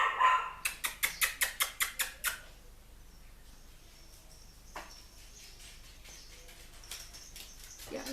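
A rapid burst of about ten sharp barks in the first two seconds, then quiet room tone with faint high chirping.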